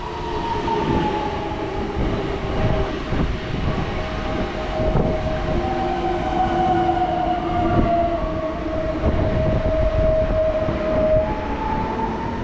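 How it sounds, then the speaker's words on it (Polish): A train passing at Warszawa Toruńska station in Warsaw, a continuous loud rumble with rail clatter and sustained squealing wheel tones, steady for the whole stretch with no voices. "Mamy także pociąg do Ciechanowa."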